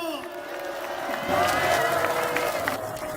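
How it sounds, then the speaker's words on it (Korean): Rally crowd at an outdoor memorial-day political gathering applauding and cheering a speaker, the clapping and voices swelling midway over a lingering tonal sound from the start. "조동근 명지대 교수님께 큰 박수 부탁드립니다."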